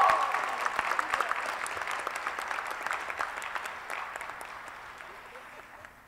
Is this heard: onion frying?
no